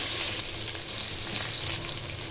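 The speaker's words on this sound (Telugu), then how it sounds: "పచ్చిమిర్చి వేసి వేయించుకోవాలి" Onions and green chillies frying in hot oil with cumin, mustard seeds and chana dal for upma, a steady close sizzle with no talking.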